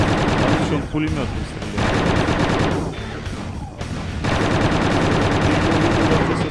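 Dense, continuous bursts of rapid automatic machine gun fire in Quake 2 on PlayStation fill the clip, loud and close, with brief dips in intensity; a voice speaks faintly underneath.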